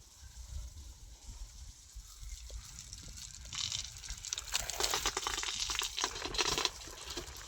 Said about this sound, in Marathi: काकडीवर पाणी मारून घ्यायचे